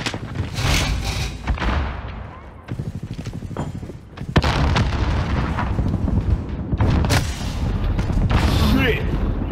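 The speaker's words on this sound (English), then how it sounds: "Grenade out!" Grenade blasts and gunfire in a Call of Duty Warzone firefight, with repeated loud booming thuds and sharp shots spread across the clip amid dense battle noise, while players talk over it.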